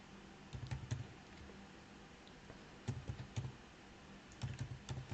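Computer keyboard keys tapped in three short bursts of quick clicks, separated by brief pauses, as a teacher's Aadhaar number is entered into a teacher module form; close and fairly quiet, with no voices.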